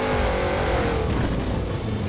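A car drives toward the player in Forza Horizon 4, its engine roaring loud and close in a steady, continuous rush with no talking.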